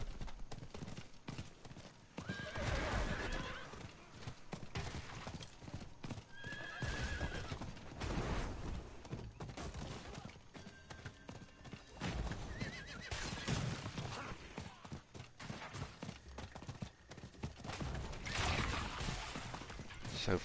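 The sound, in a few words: horse galloping in video game Diablo 4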